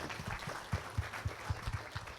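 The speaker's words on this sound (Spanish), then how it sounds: "Vamos a darle un aplauso al Señor otra vez." Church congregation clapping in praise of the Lord at a Christmas-season service, a faint rhythmic run of group claps in a regular beat, quiet and somewhat distant.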